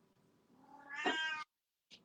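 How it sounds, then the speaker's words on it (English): A cat lets out one drawn-out meow that rises and cuts off, followed by a brief, faint second call, with a quiet background and no talking. "That's the cat again. Is that the cat?"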